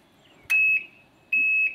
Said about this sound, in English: I got backup alarms.